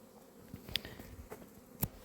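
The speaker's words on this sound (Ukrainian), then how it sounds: "Видно, що бджола вже трошки ну так, політує кожен дня по чуть-чуть" Faint buzzing of honeybees flying around their hive on a mild February day, with a few sharp clicks and soft thumps scattered through the outdoor background.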